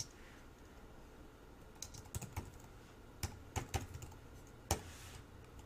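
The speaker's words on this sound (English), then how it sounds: "here we're just going to type in the name of the member" Keys on a computer keyboard tapped in short irregular bursts, a few clustered clicks then pauses, close and fairly quiet over a low room hiss, no voices.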